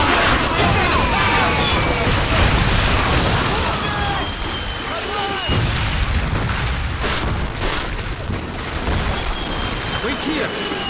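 Gunfire and explosions from the 2004 PlayStation 2 war shooter Call of Duty: Finest Hour, a dense, loud, continuous barrage of booms and bursts with shouted voices mixed through the battle din.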